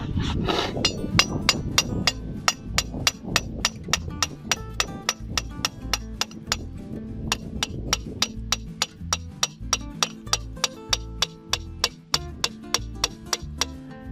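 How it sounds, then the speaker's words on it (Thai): A metal anchor stake is hammered into the ground at a campsite. Sharp metallic strikes repeat in a steady rhythm of roughly three per second, loud and close with no talking. "ตัวนี้เนี่ยเป็นสมอนะครับ ที่สามารถปักดินนี่นะครับปักตอกได้เลย"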